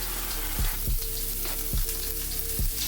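Four whisked eggs sizzle steadily in a hot pan, with a few soft knocks of a utensil against the pan.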